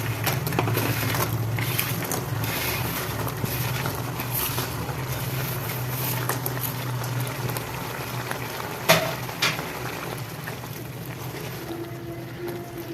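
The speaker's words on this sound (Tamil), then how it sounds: "கொஞ்சம் கொதிக்கட்டும் பாருங்க நல்லா வந்துட்டு மசாலா வந்துட்டு கொதிச்சிச்சு" A pan of thick masala sauce for mushrooms bubbles and sputters steadily up close, with an occasional clink of a utensil partway through.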